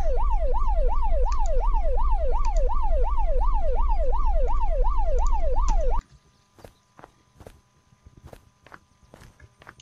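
An emergency vehicle siren in the video game Unturned wails in a fast, repeating up-and-down pattern for about six seconds, then cuts out, leaving sparse footsteps and clicks.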